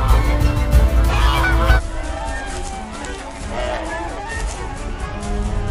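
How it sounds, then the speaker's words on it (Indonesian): Geese honk repeatedly in the animated film The Wild Robot, over a busy, noisy background, loud at first and then quieter with scattered honks continuing. "Hal itu juga disusul oleh kawanan angsa dan Bright Bill."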